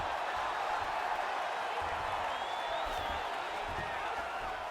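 Steady roar of a virtual arena crowd in the UFC 5 video game, cheering through a lightweight bout as the fighters rise from an extended grappling exchange, a dense continuous wash with faint whistles and no talk.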